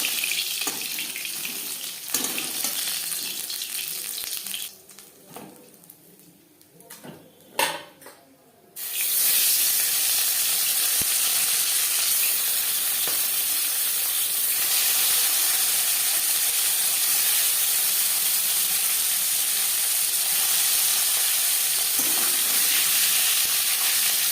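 Fish frying in hot oil in a kadai, being cooked for a fish curry with potato and cauliflower: a few seconds of quieter clatter, then a loud, continuous hiss of oil that holds steady to the end, with no voices.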